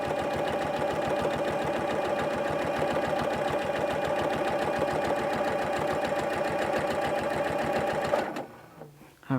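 A sewing machine stitches down the center seam of a fabric tool holder, its fast, steady needle rhythm running continuously and close before cutting off near the end.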